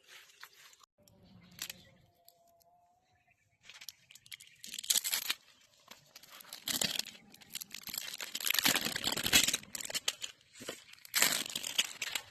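Peeling a sticker off a cricket bat being modified for ping pong cricket gives close, crinkly tearing and crackling in several bursts with short quiet gaps, rising toward the end.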